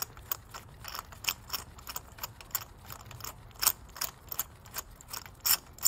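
Ratchet wrench loosening a spark plug on a 2.0 petrol VW Passat B6 engine, a quiet run of rapid clicking pawl ticks in short irregular bursts, close up.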